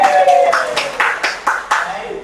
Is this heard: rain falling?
no